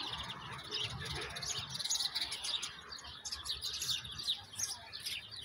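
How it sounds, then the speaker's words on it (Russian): Sparrows chirp busily along a memorial alley lined with roses in Stavropol, a dense stream of quick high tweets over soft outdoor background noise. "Птички чирикают."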